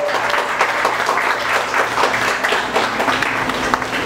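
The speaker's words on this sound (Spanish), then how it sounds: "Un aplauso para los organizadores de este evento, por favor." Audience applause at a stage event, a dense, steady burst of many hands clapping that fills the whole stretch at fairly loud level.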